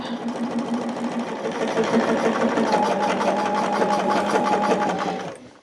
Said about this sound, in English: I'll press it so we can top stitch it and close that opening up